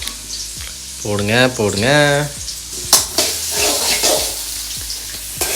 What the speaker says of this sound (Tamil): ஸ்லைஸாக வெட்டி வச்சிருக்கோம் ஆனியனை போடணும்